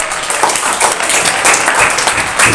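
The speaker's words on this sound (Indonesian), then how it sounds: "Kita kasih aplaus untuk kita semua." Students in a classroom break into applause, a dense, loud wash of many hands clapping that carries on steadily for a couple of seconds.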